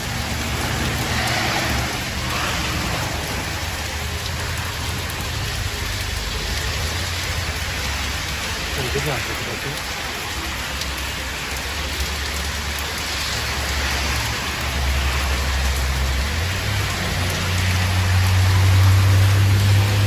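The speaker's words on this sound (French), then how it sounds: "C'est une averse qui va durer plusieurs heures." Heavy rain shower pours onto a boulevard in Saguenay, a dense continuous hiss of drops on pavement lasting throughout, with a low rumble of passing traffic growing toward the end.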